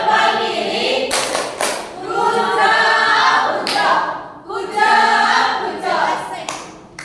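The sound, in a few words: class doing rhythmic clapping chant tepuk bucot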